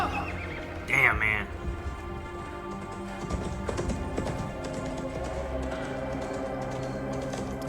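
A horse whinnies loudly near the start of a scene from the TV series Shogun, followed by a busy mix of clopping hooves and clatter, with a voice speaking briefly.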